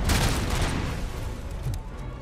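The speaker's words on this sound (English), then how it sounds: "Ooh, explosion." A video-game explosion in Robocop Rogue City opens with a sharp, heavy blast and rolls into a crackling, rumbling decay over about two seconds, like a burst of gunfire or debris settling.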